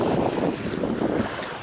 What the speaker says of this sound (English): There's water and there's wind, so it's extremely noisy